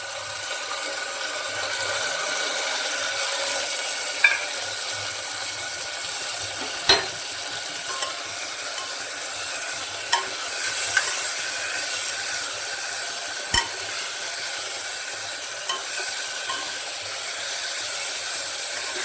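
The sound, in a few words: frying ginger-garlic-chilli paste with onions while stirring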